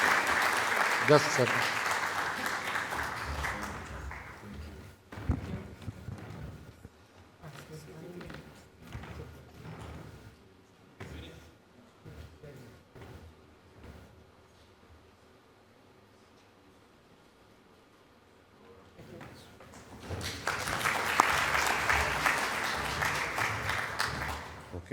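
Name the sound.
audience applause for invited speaker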